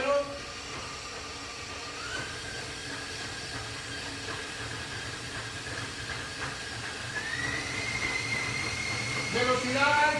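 An electric mixer whirs steadily at high speed while a Christmas yule log batter is being whipped, a continuous hissing drone whose pitch climbs partway through, loud and close with no clear talk over it.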